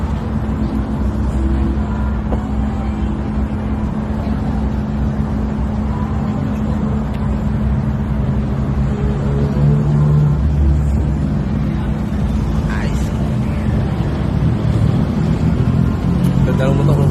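Motorcycle ridden along a road near kilometer 44: a steady, close, low engine drone with wind rumble that runs throughout, while a rider speaks briefly over it.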